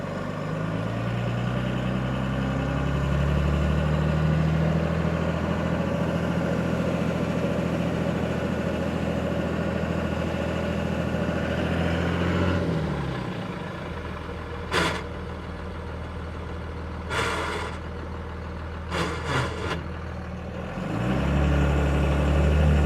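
A truck engine with a manual six-speed transmission and a slipping clutch, a steady low droning rumble that drops in pitch and eases, with a few brief sharp noises before the engine note swells again.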